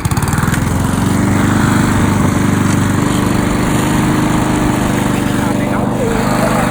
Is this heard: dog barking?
no